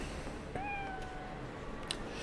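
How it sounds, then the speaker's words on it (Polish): A pet cat meows once in Cyberpunk 2077, a clear rising-then-falling call at close range over quiet game ambience. "Można sobie kota oswoić i mieć go w swoim mieszkaniu w grze."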